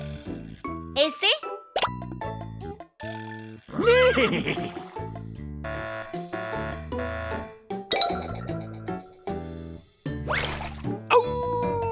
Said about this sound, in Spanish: ¡Este debe ser el sonido de un caballo bien veloz!